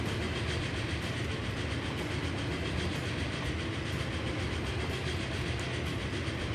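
An Alco Pennsylvania Mainline Express train in Transport Fever rushes past, a loud dense roar of wheels and engine with a steady rhythmic rail clatter throughout.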